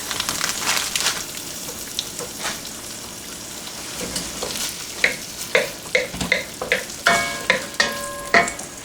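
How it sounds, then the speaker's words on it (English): Sausage and chicken sizzle steadily in a hot pan for gumbo while a utensil stirs and scrapes, with sharp metallic clanks toward the end. "Well, we're starting to sizzle."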